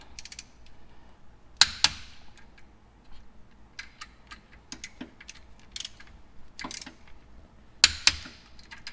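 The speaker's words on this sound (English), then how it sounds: "the lower hex bolts get torqued to 42 foot-pounds" Torque wrench clicking as lower hex bolts on a Dodge Challenger SRT Demon 170 differential are tightened to spec in a garage, with a few sharp ratchet clicks and metallic snaps spaced out over quiet mechanical handling.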